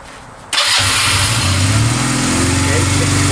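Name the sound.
carbureted motorcycle engine starting with the electric starter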